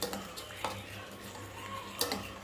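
A ladle stirs sambar in a cooking pot in a home kitchen, giving a few soft metallic clinks and scrapes against the pot over a low steady background, with no talk.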